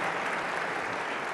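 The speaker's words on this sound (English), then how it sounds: "can we give our panel a round of applause, please?" Audience at the Saudi-U.S. Investment Forum applauds a panel, with a short burst of dense, even clapping from a fairly distant crowd.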